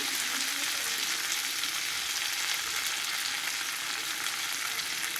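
Coriander and mint leaves fry in a pan for a chutney, giving a steady, close, dense sizzle with faint stirring throughout and no talking.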